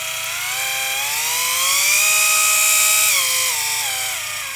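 An In2detailing nano polisher motor running alone, a loud steady electric whine that rises in pitch, holds at top speed for about a second, then drops back down.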